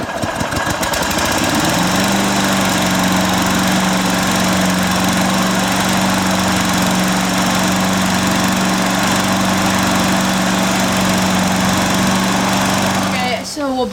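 Husqvarna HU725AWDBBC walk-behind lawn mower, a curbside find under repair, starting up and running steadily at close range, a loud continuous engine drone with a strong low hum, cutting off abruptly at the end.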